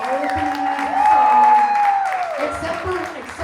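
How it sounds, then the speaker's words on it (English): Audience applause at a comedy show at The Milk Parlor, a moderate burst of clapping that swells in the middle and fades, mixed with a sustained tonal sound and some voices. "How about a nice round of applause for all of the"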